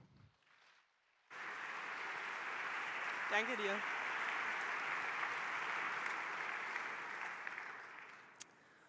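An audience at the re:publica 2018 conference stage breaks into sustained, even applause that lasts several seconds and then tapers off, after a brief spoken thanks.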